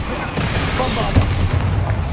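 A Bombarda exploding spell in Hogwarts Legacy lands as a short, punchy boom amid dense game noise and a speaking voice, its low thump rumbling briefly before fading.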